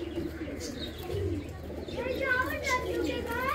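Teddy pigeons coo softly in low, rounded notes, mixed with light chirps, while a voice is audible nearby.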